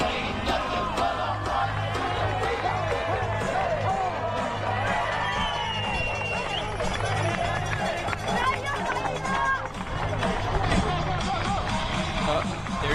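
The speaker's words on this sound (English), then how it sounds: "So great to see so many people out there this early in the morning cheering on these incredible athletes" Dense crowd of spectators cheering, whooping and yelling along the course of the Chamonix Marathon du Mont-Blanc, a 42 km mountain race, steady loud babble with shouts for the passing runners throughout.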